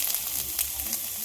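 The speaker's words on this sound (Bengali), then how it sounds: "তুলে নিয়ে বেগুনগুলো ভেজে নেব।" Eggplant frying in a pan, giving a steady close sizzle throughout with a few faint stirring scrapes.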